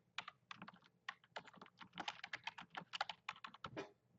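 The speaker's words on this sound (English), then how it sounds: "At the top, type in the team name" Quiet, close typing on a computer keyboard, with rapid irregular clicks and key taps running continuously without talk.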